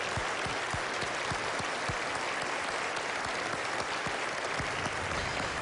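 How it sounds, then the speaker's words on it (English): An audience applauds Teddy, a war veteran and former Seabee from Hazleton, with loud, continuous clapping that stays even for several seconds, a few heavier claps standing out close by. "So I'd like to give a one round of applause for Teddy at this time."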